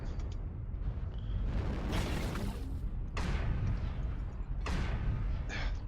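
Heavy autocannon fire from AC-5 weapons in Mechwarrior Online, a few booming shots several seconds apart over a constant rumble of mech combat, with the cannons loud and close.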